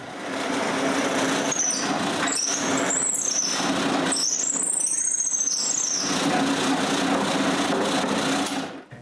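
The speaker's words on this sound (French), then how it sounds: "Ensuite, je perce un trou sur ma marque." A drill bores a hole through a marked spot in a piece of wood in a woodworking shop, a loud continuous whirring motor with a high squealing edge that holds steady for about nine seconds before stopping.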